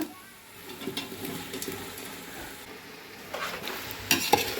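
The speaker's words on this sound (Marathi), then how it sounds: "आता टाकूया बघा ही मटण" Village-style chicken curry meat is tipped into a pan and stirred, giving a soft, fairly faint scraping and light sizzle that swells near the end with a few sharper clinks.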